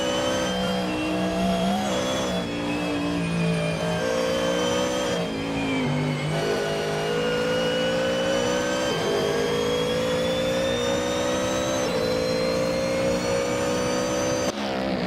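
A GT race car engine drones hard through a lap at a United States Grand Prix round of the GT World Challenge, holding a loud steady high-pitched wail and dipping briefly at gear changes before climbing again.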